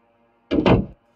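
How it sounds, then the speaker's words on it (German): A door swings shut in the video game Meteor Mess 3D, one short solid thunk lasting about half a second, close and loud against near silence. "So, mach gleich mal die Tür zu."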